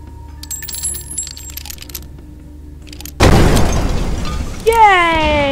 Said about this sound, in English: Explosions! Fire!